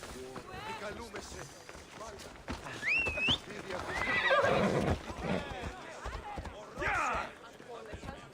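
A horse in Assassin's Creed Odyssey whinnies with a rising, wavering cry, while hooves clip-clop and other game sounds and voices carry on around it.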